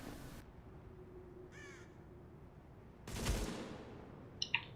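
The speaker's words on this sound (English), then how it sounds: "take a shot at me" A gunshot rings out in The Division video game, a sudden loud burst after a quiet stretch, with a crow's caw heard earlier and brief clicks near the end.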